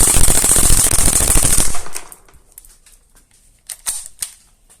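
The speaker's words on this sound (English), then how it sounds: "we're gonna try to run through 5 magazines on full auto" A VFC MP5 airsoft gun fires on full auto, a rapid loud rattling burst lasting nearly two seconds that stops abruptly, followed by a few sharp mechanical clicks and clacks.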